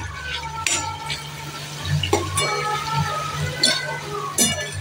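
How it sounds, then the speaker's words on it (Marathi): Cooked masoor lentils going into a pan and being stirred for a hotel-style akkha masoor curry, with repeated spoon scrapes and clinks against the pan over a steady low hum. "आता मी मसूर टाकते त्यात, मस्त शिजले आहे."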